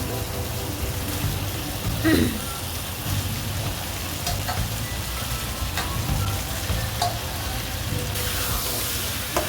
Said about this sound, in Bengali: চিংড়ি মাছগুলো দিয়ে দিলাম একটু কষানো হয়ে গেলে আমগুলো ছেড়ে দিলাম